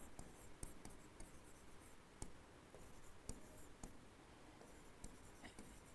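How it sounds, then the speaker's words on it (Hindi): Marker or chalk scratches steadily across a board during a chemistry lesson on a periodic-table memory trick, with a dry continuous scraping broken by frequent sharp taps and clicks of strokes, close and alone without talk. "यहां मैं लिखता हूं नाना"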